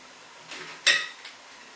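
A kitchen knife cuts the top off a peeled onion, giving one crisp, close tap of the blade on the board with a faint scrape before and after, and no talking.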